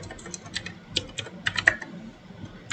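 Keys clatter on a computer keyboard while HTML table code is typed, an irregular run of close, light clicks with brief pauses between bursts, and no voices.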